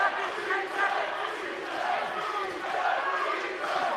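A UFC arena crowd, on its feet in the final seconds of a fight, roars and cheers in a dense continuous wall of noise, loud and sustained with no clear voice standing out.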